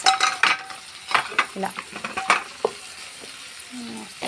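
Eggs in a gravy curry fry in a pan, with intermittent stirring scrapes and clinks of a utensil over a soft sizzle, close by, while someone speaks briefly.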